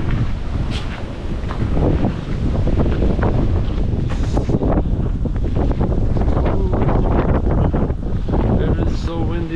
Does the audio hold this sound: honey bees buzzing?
no